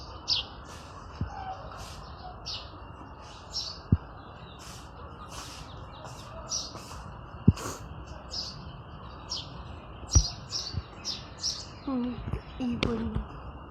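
Sparrows chirp repeatedly in quick, bright bursts outdoors on a cold morning in India, a lively chorus over a low background hum, with occasional clatter nearby.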